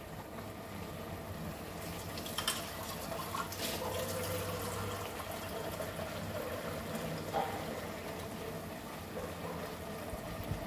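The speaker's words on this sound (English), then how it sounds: "So I will add around 2 cups of water into this." Water poured from a vessel into a cooking pot in a home kitchen, a steady soft liquid stream running for several seconds amid faint kitchen background noise.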